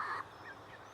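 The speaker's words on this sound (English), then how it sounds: "That bird does not sound happy." A chicken lets out one short, distressed squawk at the very start, close and clear, then only quiet background remains.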